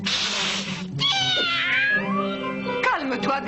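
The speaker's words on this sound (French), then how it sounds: "Vous avez un chat superbe," A cat meows several times in a distinguished-sounding, drawn-out way, with rising and falling wails close by, after a burst of noise at the start; faint voices sit underneath.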